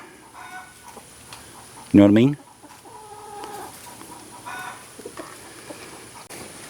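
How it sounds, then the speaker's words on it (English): A black Australorp rooster and hens on a backyard flock give a short, loud squawking cluck near the microphone, followed by softer clucking and murmuring from the chickens while someone talks over them. "the black Astralorp is my rooster, and he's still in there"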